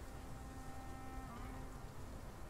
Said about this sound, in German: man sieht es nicht viel, weil es regnet